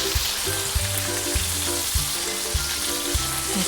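Salmon fillet fries in butter in a pan with a steady, close, crackling sizzle, broken by a few soft thumps at regular intervals; nobody talks.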